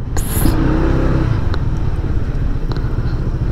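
Motorcycles rumble past on a road in Sariaya, Quezon, a loud close engine drone that swells and eases as they go by, with a brief higher whine near the start.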